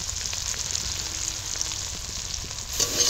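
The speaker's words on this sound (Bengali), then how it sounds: "মশলাটাকে দেখো ভালো করে কষানো হয়ে গেল।" Tomato masala with Kashmiri chilli powder and turmeric sizzles steadily in a pan while being stirred, a close continuous fry hiss with soft scraping that swells slightly near the end; nobody speaks.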